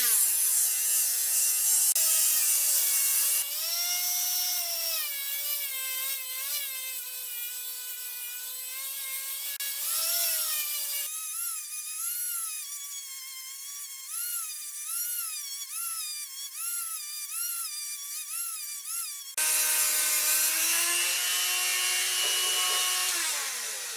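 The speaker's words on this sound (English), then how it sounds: "So we'll just continue sanding and grinding away for now." A high-pitched rotary tool whines continuously, sanding and grinding a cast aluminum camper trailer hinge, its pitch shifting as it bites into the metal, loud and close with brief changes in load and no voices.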